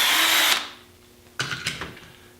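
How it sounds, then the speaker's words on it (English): A power drill bores a pilot hole into the wood of a canoe-kayak kit, a loud high whine for half a second, then winding down, followed by a few short bursts as the bit is worked, close by with no talking. "You always have to drill a hole first."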